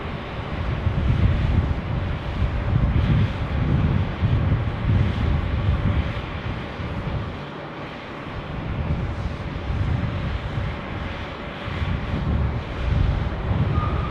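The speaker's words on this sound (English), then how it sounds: "Wind." Wind at Sydney Airport buffets the microphone in a continuous low rumbling roar that swells and eases, with a brief lull partway through and a faint distant aircraft hum beneath.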